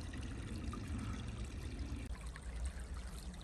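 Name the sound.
water trickling in a small creek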